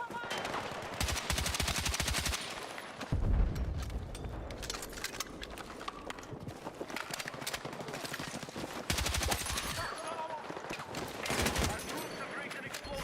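Battlefield 6 gunfire rattles in rapid automatic bursts and single shots, loud and close, with short pauses between volleys, while someone talks casually over the action.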